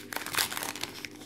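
Glued Pokémon card booster pack wrapper being pried open, giving a quick burst of close foil crinkling and crackling that fades within about a second.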